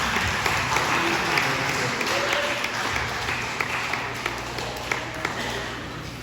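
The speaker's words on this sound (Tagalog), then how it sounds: "Atong sugaton sa masipang palakpak ang ating mga amahan" Congregation at a Visayan Father's Day mass breaks into warm applause for the fathers, a steady wash of clapping from many hands inside the church with a few sharper claps standing out.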